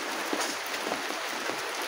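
Heavy, nonstop rain falls steadily with no wind, making a dense, even hiss of drops on surfaces throughout, with no voices.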